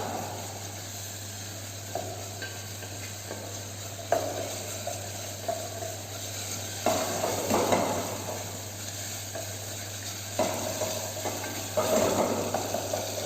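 Masala sautés in a pan, with a steady hiss of frying under a constant hum and occasional scraping stirs at irregular intervals, and no one speaking.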